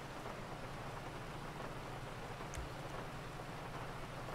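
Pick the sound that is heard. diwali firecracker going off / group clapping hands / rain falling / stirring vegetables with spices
rain falling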